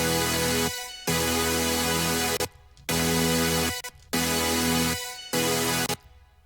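A dry supersaw synth chord in FL Studio, played with no effects, sounds in four thick, loud sustained blocks separated by short silent gaps.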